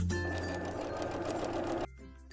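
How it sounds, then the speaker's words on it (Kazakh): Sewing machine stitching a half-centimetre seam, a fast steady mechanical whir with a constant hum that runs close and loud, then cuts off abruptly near the end. "Сендерге бірінші тігісті тігіп көрсетейін."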